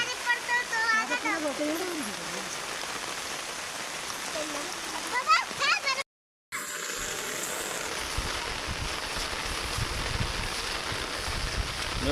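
Heavy rain pours over a farm among rice fields, a dense, constant roar of drops with some talk early on, a brief dropout midway, then rougher rumbling rain.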